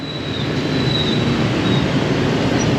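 Steady rumbling of a train rolling past in Hanoi, Vietnam, continuous and fairly loud, with a faint high metallic whine from the wheels.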